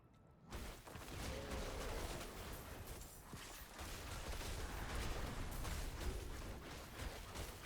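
An explosion in the video game Diablo IV, played with a storm-and-claw druid build, comes as a sudden dense burst of game noise that keeps rumbling and crackling steadily at moderate volume with no speech.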